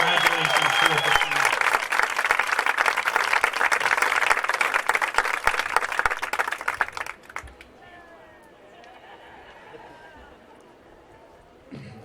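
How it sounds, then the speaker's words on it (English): Warm applause from the audience at a high school varsity sports awards ceremony, honouring a girls basketball team: loud, dense clapping for about seven seconds that then stops, leaving quiet room noise and some faint talk. "Can I please have a warm round of applause for the Rhinex girls basketball team?"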